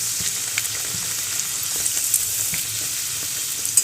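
Kachori dough puffing and frying in hot oil gives a steady, bright sizzle throughout, with small pops and occasional stirring clatter close by, and no voices.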